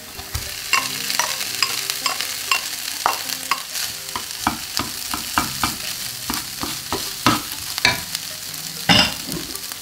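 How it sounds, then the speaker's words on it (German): Cooked rice tossed into a pan with onions and vegetables and fried together: a steady sizzle beneath repeated scraping, clattering stirring strokes in an irregular rhythm, close and fairly loud, with no voices. "Wir schmeißen einfach nur noch den Reis mit dazu und braten den mit an."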